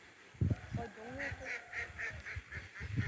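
A goose honks repeatedly outdoors at a fishing spot, a steady run of nasal calls over constant background noise, with low thumps and knocks around them.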